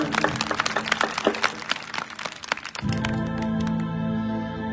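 Applause at a Ram Katha gathering: a crowd claps in a fast, crackling patter for about three seconds, then gives way to sustained harmonium-like music.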